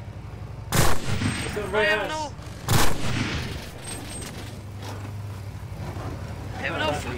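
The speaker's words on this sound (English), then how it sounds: "Let me shoot the gun." Gunfire in the game Cuisine Royale: two sharp, loud shots a couple of seconds apart, each with a short tail, while players talk excitedly over the fight.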